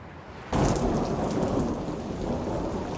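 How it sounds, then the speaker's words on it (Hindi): Heavy rain suddenly bursts in and pours steadily, a loud dense hiss close by with a low rumble beneath. "ये अचानक से इतनी ज्यादा बारिश कहाँ से आ गई?"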